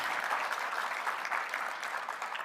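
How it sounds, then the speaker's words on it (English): Sustained audience applause at a Women, Peace and Security anniversary event, honoring staff colleagues, with dense, even clapping throughout and no voices. "Please give my colleagues a round of applause."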